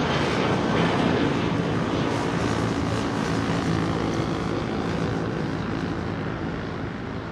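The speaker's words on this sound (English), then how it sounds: "Emirates A380 on its way out" An Emirates Airbus A380 departs from London Heathrow, its loud, sustained engine roar rumbling steadily and easing slightly toward the end, with no talking.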